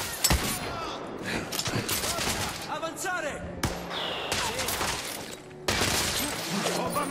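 Rifle fire in a first-person shooter video game, sharp shots and bursts scattered through the clip with short gaps, loud and close, with a voice talking over parts of it.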